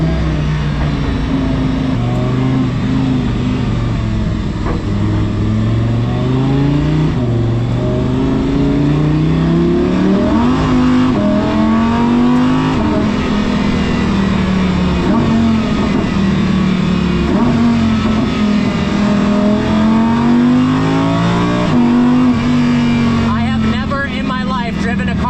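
An Audi R8 racecar engine driven on a street roars loudly and continuously, its pitch climbing and dropping through revs and downshifts, with a person talking over it.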